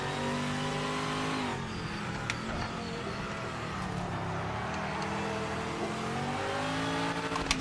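A Porsche race car engine in a racing video game drones steadily, its pitch sweeping up and down as it revs through gear changes, loud and continuous with no talk.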